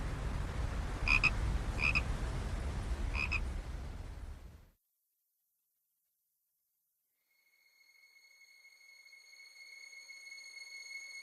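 Frogs croak on the bank of the Vistula river in Poland, a few distinct croaks over a low rumble, then silence, then a thin tonal drone fading in.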